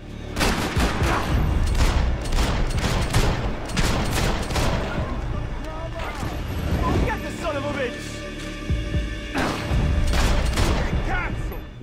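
Dense, continuous gunfire in Max Payne 3, with overlapping bursts, booms and mechanical clatter that stay loud and close throughout.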